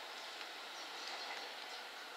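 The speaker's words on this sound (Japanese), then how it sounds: "この列車は4両で到着します。" Steady rolling rumble of a JR West 227 series four-car local train arriving at a station on the Sanyo Main Line, a continuous broadband roar with faint clatter and no voices.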